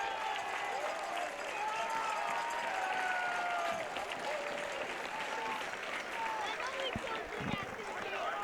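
A Saline crowd at a high school Division 1 state baseball final claps steadily in a standing ovation for their outgoing pitcher, broad continuous applause with scattered cheers and a few louder thumps near the end.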